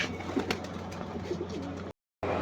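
Pigeons coo softly and repeatedly nearby over low background noise, broken by a brief moment of silence.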